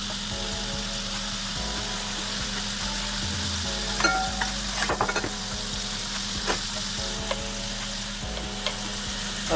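Mushrooms browning in olive oil in a pan, giving a steady, close sizzle with occasional spatula scrapes and taps as they are stirred, continuous throughout with no voices.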